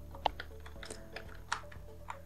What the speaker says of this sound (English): then we can start typing our text